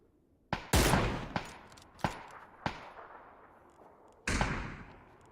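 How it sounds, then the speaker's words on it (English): Video game M249 machine gun fire comes as several sharp, loud shots spaced unevenly, each with a short decaying tail, and no talk over them. "with that M249, he can just rip shreds from here on out"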